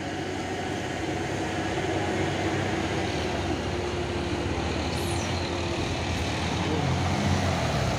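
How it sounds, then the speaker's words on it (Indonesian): A PT Pelangi intercity bus on a Sumatran road passes by with a loud, sustained rumbling engine roar and road noise that builds slightly toward the end, with no one speaking. "Oh, ini ada lagi bus PT Pelangi nih ya."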